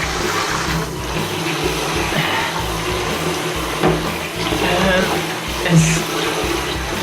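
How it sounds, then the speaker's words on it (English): Hot tap water runs steadily over a dirt bike air filter, rinsing detergent out of it, with a brief spoken word over the continuous splashing flow. "I'm using hot water."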